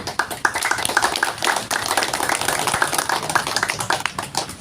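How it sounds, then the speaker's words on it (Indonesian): A small crowd claps at an outdoor ceremony for the removal of a PT Kereta Api Indonesia signboard, with brisk, uneven claps close by and no talk over them. "Tepuk tangan"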